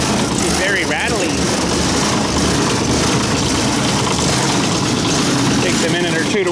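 Kubota 008 mini excavator engine idling with a rattly, steady mechanical clatter, loud and close with no break, and faint voices under it at moments.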